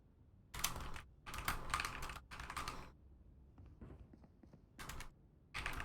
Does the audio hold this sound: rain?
no